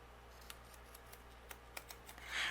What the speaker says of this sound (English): I'm going to take my scissors and go around the edge of my frame